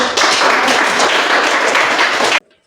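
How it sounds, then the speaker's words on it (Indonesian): A seventh-grade class of students claps together in a classroom, a dense, even burst of applause lasting a couple of seconds before stopping abruptly. "Tepuk tangan dulu untuk."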